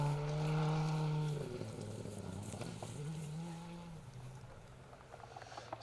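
A Proton R5 rally car drives a stage of the Phil Price Memorial Woodpecker Rally, its engine a loud, close rasp that rises and falls through gear changes before fading out.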